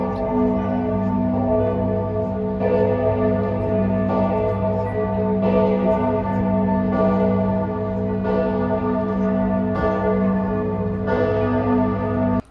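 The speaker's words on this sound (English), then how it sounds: "we could hear all of the bells going off in the city." Church bells ring across a Swiss city, heard from a rooftop as a continuous, overlapping peal. Repeated strikes ring out roughly every second or so over a rich, sustained drone of lingering tones.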